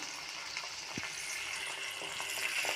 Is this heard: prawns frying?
yes